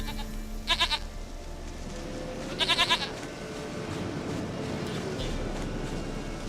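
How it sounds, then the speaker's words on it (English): Two short, bright goat bleats from The Witcher 3, each lasting about a quarter second and roughly two seconds apart, sit over a steady low game ambience with no talking. "Goat of mine, dearest, sweetest goat."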